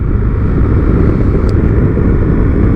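A motorcycle engine holds third gear while riding along a road, a loud, steady, close drone with a constant low rumble and no pauses.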